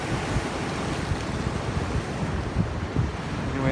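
Sea waves breaking near a shipwreck off the coast by Fraserburgh, a continuous rushing surf wash with wind buffeting the microphone, no voices.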